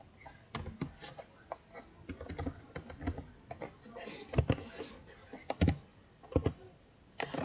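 A command is typed on a computer keyboard in sharp, irregular keystrokes that come close together. Several heavier presses stand out over a low background hum.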